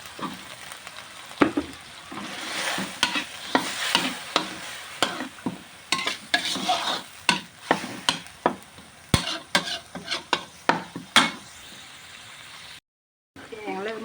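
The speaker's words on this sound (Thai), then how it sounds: "ผัดพริกแกงให้หอมก่อนนะคะ" Thai curry paste stir-fried in a pan for a central Thai catfish curry with noni leaves, steady sizzling broken by repeated sharp scrapes and clatters of a spatula stirring, close and fairly quiet.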